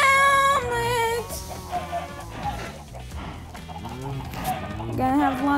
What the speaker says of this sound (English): I'm hurting the chickens!